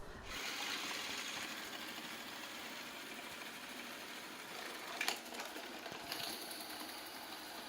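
A Danhui NR15 robot vacuum cleaner with mop running on a living-room floor, giving a steady, even mechanical whir and hiss throughout, with a couple of brief knocks partway through.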